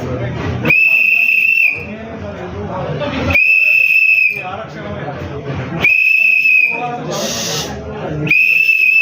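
A whistle is blown repeatedly at an election rally, four long shrill blasts separated by pauses, loud and close over crowd chatter and hubbub.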